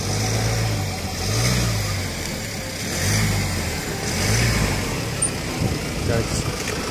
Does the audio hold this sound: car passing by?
yes